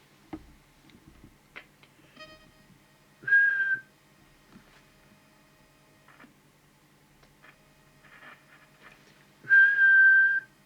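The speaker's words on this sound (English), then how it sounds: "We'll just do the whistle check." A short whistle is blown into the microphone of a TTI TCB-660 CB radio during a transmitter check, two brief steady whistles separated by quiet clicks and faint handling noise.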